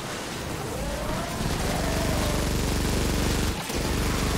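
Dense, continuous gunfire from Fortnite: Save The World fills the scene, a loud unbroken stream of rapid shots and impacts with a brief dip near the end and no talk.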